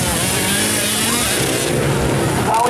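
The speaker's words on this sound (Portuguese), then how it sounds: "Dá um engasgo ali legal a máquina do Vinícius" A velocross motorcycle engine at a junior race stage in Paraú, RN, sputters and revs in a loud, continuous roar, with a commentator talking over it.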